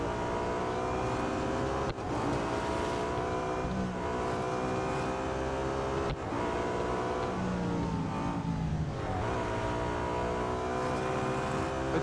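A BMW M3 GTR race car engine in the mobile racing game Real Racing 3 whines loudly and without a break. The high harmonic roar rises and falls with the gear shifts, and two brief dips break the sound.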